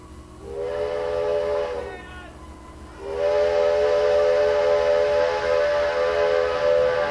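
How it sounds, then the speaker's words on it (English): A steam train whistle on the ET&WNC Railroad (Tweetsie) near Boone blows twice in long, wavering tones, the second blast louder and held, over a low rumbling background. "Each spring, Boone residents again hear the train whistle in the distance"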